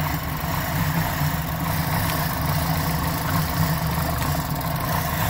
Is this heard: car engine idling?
yes